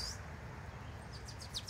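An Eastern Kingbird gives a few short, faint, high buzzy chirps near the end, over a quiet outdoor hum around a small pond in open fields.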